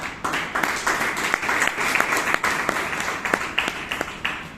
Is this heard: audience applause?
yes